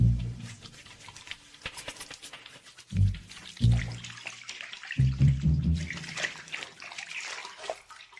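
Water splashes and pours into a basin in an ancient palace setting, several distinct sloshing bursts separated by quieter gaps, fairly close and without talk.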